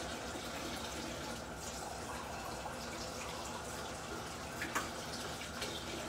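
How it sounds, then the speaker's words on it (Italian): A cup of water is poured into a simmering fish soup in a home kitchen, a steady wash of liquid sound with faint drips and a small clink near the end. "prima di mettere i pesci aggiungo un'altra tazza d'acqua"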